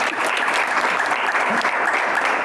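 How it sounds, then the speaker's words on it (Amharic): A studio audience at a Saturday-afternoon entertainment show applauds, a dense, even burst of clapping filling the room without a break. "አጨብጭቡላት።"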